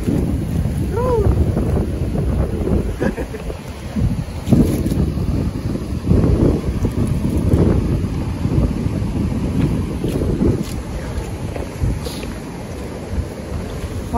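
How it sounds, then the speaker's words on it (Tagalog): Large ocean waves and strong wind at New Brighton beach in stormy weather, a continuous rough roar of surf with wind buffeting the microphone throughout. "Oh, ganun ba laki ng mga alon?"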